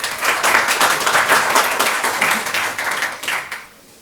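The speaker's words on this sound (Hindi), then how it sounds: "तो ऐसे टीचर के लिए तालियां" A large seminar audience applauds for a teacher with loud, dense, sustained clapping that tapers off and stops near the end.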